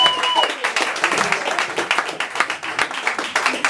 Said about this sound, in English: So clap it up for Kaila.